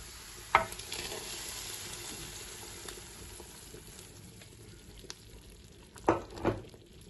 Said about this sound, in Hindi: तो ये तड़का हमारा रेडी हो चुका है, अब हम इसमें डाल देंगे